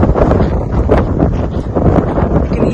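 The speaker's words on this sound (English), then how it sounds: "You can hear the wind." Strong gusts of wind blow across the microphone at Uluru in the Australian outback, a loud, buffeting rumble that surges and eases throughout.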